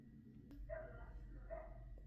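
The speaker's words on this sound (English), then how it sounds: "Now a dog is barking" A dog barks twice in the distance, short faint yaps set against a low steady background hum.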